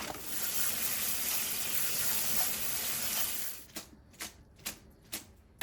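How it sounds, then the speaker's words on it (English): Cooked pasta poured from the pot into a strainer gives a loud, steady rushing splash of water for several seconds, then breaks into a few scattered drips and light clatters as the noodles settle. "Now let's take it off and drain it into our strainer."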